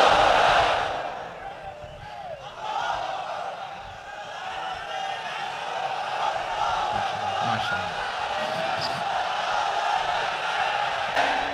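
A large crowd at a religious gathering roars a chanted takbir in unison, a loud swelling shout that sustains for several seconds with reverberant voices.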